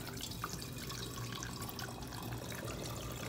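Homemade Grand Marnier liqueur pours slowly and steadily into a WECK glass bottle, a soft continuous trickle of liquid heard close up with no talking.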